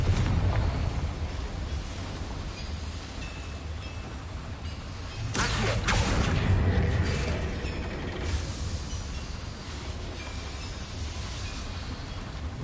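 A Confringo spell explosion in a Harry Potter video game: a loud burst erupts partway through, swelling and rumbling for a couple of seconds before easing back into steady game ambience.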